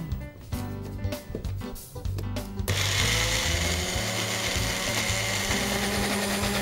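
A kitchen blender purees pesto of pine nuts, basil and olive oil: a few knocks and starts, then a loud, steady, dense whirring roar that holds to the end.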